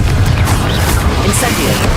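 A Confringo blast spell cast in the Hogwarts Legacy video game booms loudly amid continuous rumbling combat sound, with a short sharp crackle near the end.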